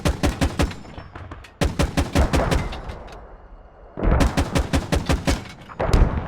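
Bursts of rapid, loud gunfire and booming impacts during a desert battle in the game Squad, with dense volleys separated by a short lull of rumbling background noise.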